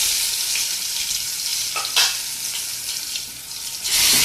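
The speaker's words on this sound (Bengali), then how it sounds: "আর এই তেলেই আমি বেগুন ভাজিটা বসিয়ে দিচ্ছি।" Eggplant slices fry in a small amount of hot oil in a pan, giving a steady, close sizzle with brief louder crackles, with no one talking.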